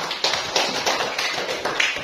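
Elementary school classmates clap together in a steady rhythm for group 3 after their magnet lesson, regular sharp claps repeating about every third of a second, close and fairly loud.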